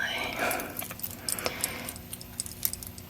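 Small set of keys jangling close up in quiet whispered surroundings, giving a run of light metallic clinks and rattles.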